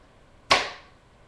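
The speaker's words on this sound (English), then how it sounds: "But you're going to take them and you're just going to bang them together." A deck of angel cards slapped together once gives a single sharp, close smack that quickly decays into silence.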